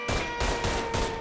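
Gunfire from Mafia 3 comes in a short rapid burst of repeated shots. It is loud and continuous, with no talking.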